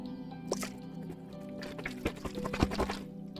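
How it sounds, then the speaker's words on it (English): Water sloshes and drips as someone drinks from a water bottle, with soft liquid squishes and a few small gulping clicks close to the microphone, fairly quiet and with no talking. "I got a water bottle."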